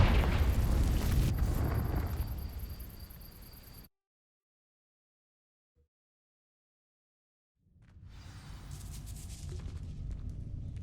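A Confringo fire spell from the Hogwarts Legacy video game sets dry vines ablaze with a loud crackling burst. The roar fades into several seconds of silence, and then a rushing, flaring wash returns.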